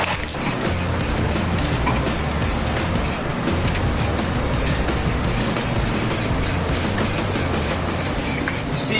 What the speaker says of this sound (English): touch it up with spray paint